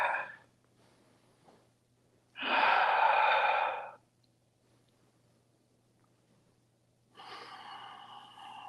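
Slow exhaled breaths during a yoga twist, two long audible breaths near the mic separated by quiet pauses, each a soft airy rush that rises, holds and fades.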